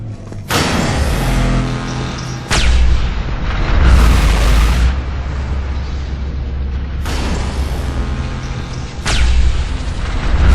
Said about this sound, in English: That's a big gun!